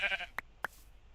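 In Minecraft, a sheep gives one short bleat, followed by two sharp hit sounds in quick succession, then quiet.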